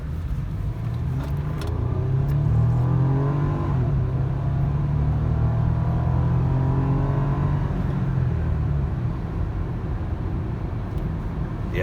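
A 2010 Lexus ES350 engine hums steadily at close range, its pitch rising and falling as it accelerates, with a low rumble throughout.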